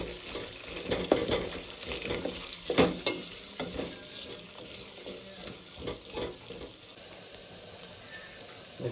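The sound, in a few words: frying ingredients in pan for little millet upma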